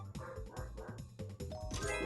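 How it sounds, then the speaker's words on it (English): Several dogs barking repeatedly indoors in a house, a loud rapid volley of overlapping barks and yips with no pauses. "Hopefully the dogs have stopped by now."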